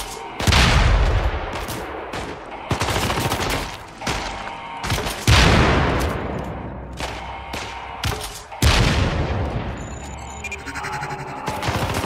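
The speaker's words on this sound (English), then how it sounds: "This is the TAR assault rifle with underslung grenade launcher." A TAR assault rifle with underslung grenade launcher fires in the Syndicate shooter game: four loud bursts of automatic fire with heavy booming tails, spaced a few seconds apart.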